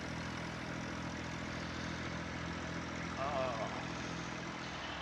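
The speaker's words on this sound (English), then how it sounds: "I brought this tractor because it's the fastest of my tractors" A tractor engine in Farming Simulator 19 drones at a steady low idle-like hum, constant and fairly loud, with a faint brief chirp partway through.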